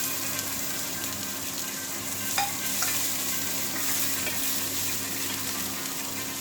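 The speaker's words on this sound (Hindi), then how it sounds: "ये हमारी हरी मिर्ची थोड़ी सी हो गई, इसमें हम ये सारा प्याज डाल दें।" Chopped onion tipped into hot oil with green chillies in a pan for an eggplant dish, producing a steady, loud sizzle with a brief stir or clatter partway through.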